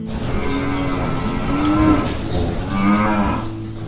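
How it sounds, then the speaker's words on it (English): A cow moos in long, low drawn-out calls, loud and close, with a second moo following after a short pause and no talking over it. "cow."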